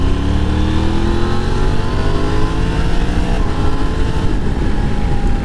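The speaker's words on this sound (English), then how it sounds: "Let's do a third gear pull on the Tiger. 20 miles an hour, full throttle." A Triumph Tiger motorcycle pulls hard at full throttle in third gear from about 20 mph on an interstate, its loud engine note climbing steadily in pitch over wind roar for several seconds.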